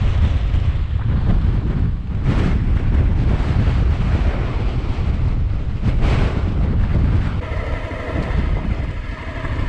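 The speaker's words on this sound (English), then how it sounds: "it's so windy" Strong side wind roars and buffets continuously, loud and gusty, with rumbling low turbulence throughout and no voices, on an off-road trail in southern England.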